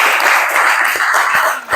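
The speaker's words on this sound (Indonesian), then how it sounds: "Tepuk tangan untuk gaya belajar kinestetik." Steady applause from a group, a dense wash of clapping that holds evenly throughout and dips briefly near the end.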